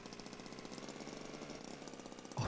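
Old car engine from Jalopy running steadily, a faint rattling, knocking putter with fast even pulses like a small motorbike, alone until a louder thump at the very end.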